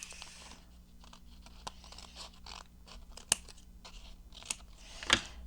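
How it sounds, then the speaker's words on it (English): Scissors snip through a piece of craft material, a few soft crunchy cuts and crinkles followed by several sharp, isolated clicks, close and fairly quiet with no talking. "I'm going to cut that off."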